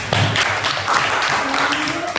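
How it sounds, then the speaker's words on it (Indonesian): Students in a classroom clap for a presenting student group, a short burst of dense close applause mixed with some voices. "tepuk tangan buat kelompok 2"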